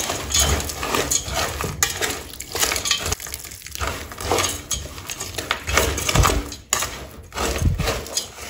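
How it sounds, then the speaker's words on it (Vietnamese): Flour batter tinted with butterfly pea water is mixed in a bowl, giving close, uneven sloshing and scraping with clinks of a utensil against the bowl. "Sau đó chúng ta trộn nè."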